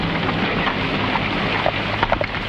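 Steady heavy rain pours down at night, a dense continuous hiss with a few brief louder spatters and no voices.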